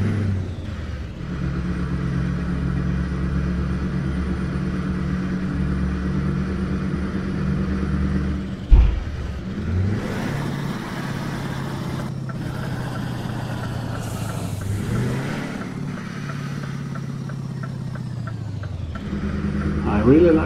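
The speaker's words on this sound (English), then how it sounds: "really like the sound of this V8 engine" A V8 truck engine in Euro Truck Simulator 2 drones steadily at a low idle-like rumble, with a brief thump near the middle and some shifting tones, while someone talks over it throughout.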